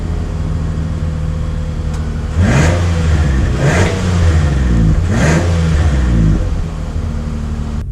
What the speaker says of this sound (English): let's take the 2019 Pathfinder out to see how it drives